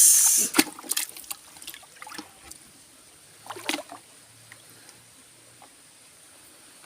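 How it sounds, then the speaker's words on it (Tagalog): Water splashes and trickles into a bucket floating in a tilapia fish pond, with a burst of splashing at the start and brief sloshes and drips after, close by, outdoors, with no voices. "lagyan muna natin ng tubig"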